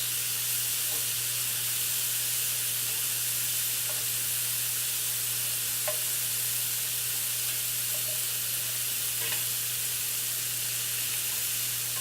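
Shrimp frying in a pan give off a loud, continuous sizzle and hiss, with a low steady hum underneath and a few faint clicks and scrapes from flipping.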